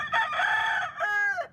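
A rooster from a cockfighting ring crows once, a loud, close, drawn-out call with a strained rising and falling finish, heard alone.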